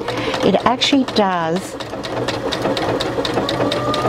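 A Brother A150 sewing machine runs a triple straight stitch with fast, even mechanical chattering. It is loud and close, and a person speaks briefly at the start before the machine carries on alone.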